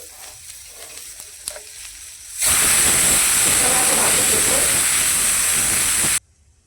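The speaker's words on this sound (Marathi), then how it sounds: "तेल टाकते मसाला तळून झालेला आहे" Spice masala hitting hot oil in a pan for a village-style mutton curry, a sudden loud, bright sizzle that runs for about four seconds and then cuts off, after some quiet handling noises.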